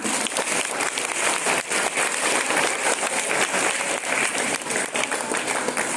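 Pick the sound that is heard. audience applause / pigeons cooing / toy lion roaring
audience applause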